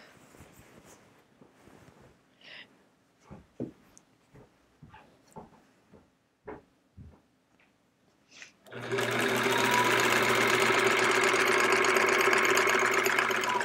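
A sewing machine stitches the binding onto a sampler quilt, starting after some quiet handling clicks and rustles, then running loud and steady at close range with a fast, even mechanical whir.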